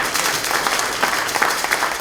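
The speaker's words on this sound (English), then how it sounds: "Yes, round of applause." Audience applause at the International Reggae Day Forum, a steady wash of clapping from a crowd that carries through the whole stretch at an even level, with a few louder claps standing out.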